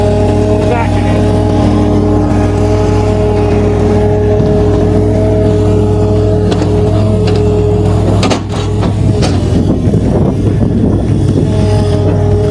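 A loader's diesel engine drones loudly and steadily while backing up, a deep rumbling hum with wind buffeting the microphone and a brief clank near the end, while a person speaks over it.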